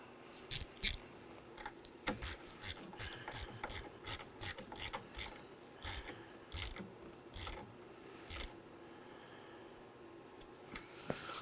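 Ratchet cranking down the negative battery terminal nut on a Chevrolet Equinox, a quick run of sharp clicking strokes in irregular bursts, close and alone with no talking.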